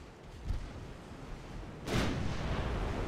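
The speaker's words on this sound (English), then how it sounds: "after I fire this salvo" Naval gun salvo in the warship game Ultimate Admiral Dreadnoughts: a soft thump early on, then a loud, deep booming roar that swells and keeps rumbling to the end, with no talking.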